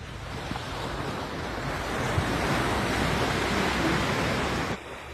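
Sea waves washing onto a busy beach make a steady, loud roar of surf mixed with wind rumble against the microphone, continuous throughout with no voices, ending in a brief dip.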